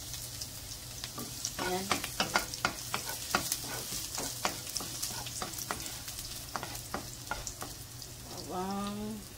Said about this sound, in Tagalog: Gisa natin ang bawang.